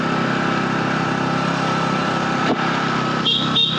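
A motorbike engine labours up a steep mountain hairpin road, droning loud and steady for several seconds, then briefly dips before climbing again.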